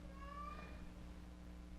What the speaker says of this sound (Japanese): 時々猫の声がしますが気にしないでください。